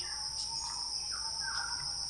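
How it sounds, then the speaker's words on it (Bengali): Birds chirp in a bamboo grove. A steady high insect drone runs throughout, with scattered short chirps and calls over it at moderate distance. "পাখির কিচিরমিচির"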